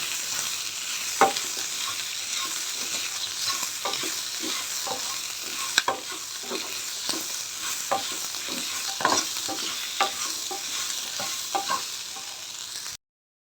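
Tempering for nalleru chutney sizzling steadily in hot oil, with intermittent stirring clicks and scrapes in the pan, close and continuous without speech.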